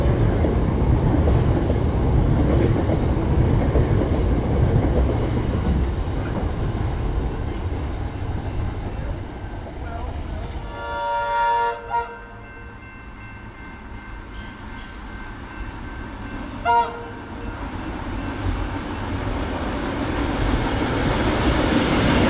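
A vintage Tait electric train shuttle running between North Brighton and Brighton Beach stations, with a steady rumbling roll, brief squeals and clanks as it slows, then picking up again, heard from on board.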